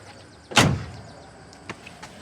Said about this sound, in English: Got the door shut on it.